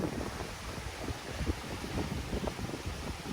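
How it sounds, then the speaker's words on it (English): Rapids on the Lehigh River in Pennsylvania's Pocono Hills rush in a faint, continuous hiss, mixed with wind blowing on a cool late-summer day, with no voices. "I'm appreciating the sound of the rapids in the Lehigh River and the wind blowing here"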